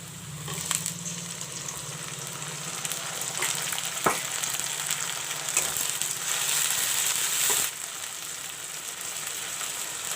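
Onion paste hitting a pan of golden brown fried onions, giving a steady close sizzle and crackle with occasional stirring scrapes and a few sharp clicks, with no one talking.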